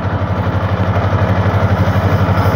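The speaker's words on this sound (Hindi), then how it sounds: "ये ट्रैक्टर आप देख रहे होंगे, ये जा रहा है देखिए" A tractor engine runs on a farm, giving a loud, close, steady chugging idle with an even pulsing beat throughout and no talk.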